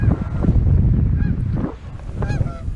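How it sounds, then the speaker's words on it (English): Geese honk in a few scattered calls, fairly near, over a rumbling blend of wind and low background noise on a cold, rainy spring day by the water. "Got some geese coming in."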